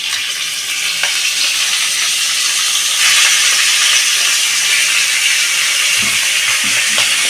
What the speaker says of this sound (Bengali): ফোড়নটা আমি ভালো করে ভেজে নেব।